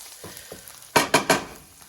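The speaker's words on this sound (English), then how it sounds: "once it's all sizzled" Oil and meat crackling in a frying pan for bistek, three loud sizzling bursts close by over a low background hiss.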